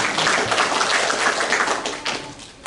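A church congregation claps during a Good Friday sermon, a dense, steady patter of many hands that carries on for a few seconds and then thins out slightly toward the end.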